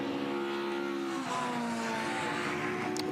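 Classic racing car engines at a Le Mans Classic endurance race at Dijon, a loud sustained drone with several overlapping engine tones, one pitch sliding as a car passes, steady and close throughout.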